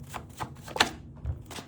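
A deck of tarot cards is shuffled in a few quick riffling bursts and soft taps, close and fairly quiet.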